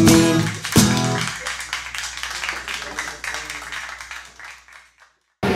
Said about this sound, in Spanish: Un aplauso, un aplauso. Gracias a todos.